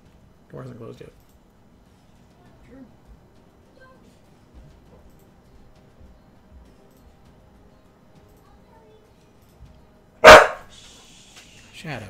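A dog barks once, loud and close, near the end of an otherwise quiet indoor stretch, with a fainter yelp early on and a short softer sound right after the bark.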